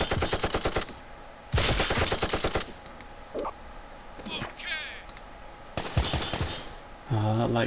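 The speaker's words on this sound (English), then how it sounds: "The heavy machine gun is really hit and miss." Bursts of machine gun fire from the video game Incubation come in several loud rapid volleys separated by pauses, with game sound effects and clicks between and a voice briefly speaking near the end.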